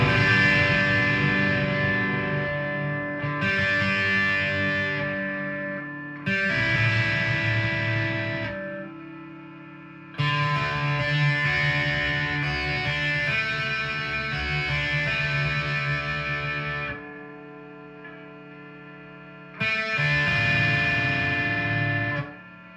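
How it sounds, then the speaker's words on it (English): A G&L Legacy Tribute electric guitar, made in Korea, played through its bridge pickup with heavy distortion, loud sustained chords and riffs in several bursts separated by short pauses and ringing decays, with no talking. "let's use the bridge for the distortion"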